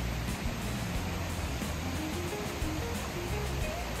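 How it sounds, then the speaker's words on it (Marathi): Rushing water at a hidden waterfall near Kamshet, a loud continuous roar and splash heard close up with no pauses. "पोहोचलो आपण वॉटरफॉलला।"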